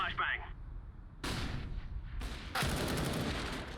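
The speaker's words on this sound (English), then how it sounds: "Throwing flashbang." A flashbang thrown in CS:GO, heard as loud broadband bursts of game noise that crack in one after another and keep a dense, harsh roar going to the end.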